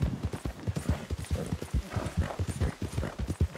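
Horse hooves clip-clop in a rapid, steady rhythm in the Valnera video game, close and moderately loud, like a horse trotting along.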